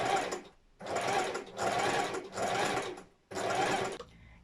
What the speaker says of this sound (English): Okay, let's take it to the machine.